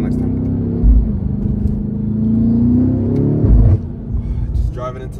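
A BMW M8 Competition fitted with a catless downpipe and Eventuri intakes, driving at a low, steady engine rumble that swells briefly, heard from inside the car while a person talks.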